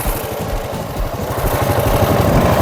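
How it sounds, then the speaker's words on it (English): A quad bike engine runs steadily up close, a loud low chugging rumble that builds slightly in intensity, with no talking over it. "I want to get to experience one of these quad bike"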